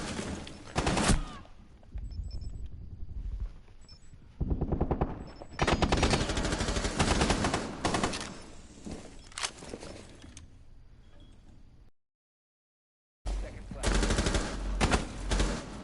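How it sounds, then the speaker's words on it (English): Bursts of M249 SAW machine gun fire in a competitive shooter match, loud sustained automatic volleys broken by short pauses and a brief silent gap, with a commentator talking at times. "With a really good gun, the M249 saw."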